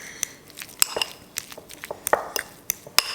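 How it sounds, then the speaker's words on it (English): A fork clinks and scrapes against a bowl while mixing green-tinted Baby Yoda food ingredients, giving irregular sharp metallic taps close by with no voices. "now we're just gonna start mixing this all together"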